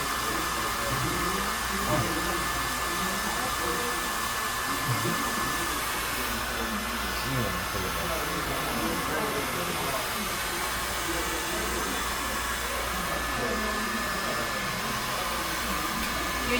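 A hair dryer blows steadily and loudly while hair is dried with a vent brush, a constant close rushing hiss that continues unbroken throughout.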